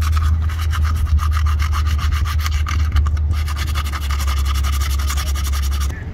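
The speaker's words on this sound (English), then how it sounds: "So we're gonna start sanding these little nubs off." Rubber nubs are sanded off the sidewall of a 40-inch Nitto tire, producing a steady, close abrasive scrubbing with rapid rhythmic strokes over a constant low hum.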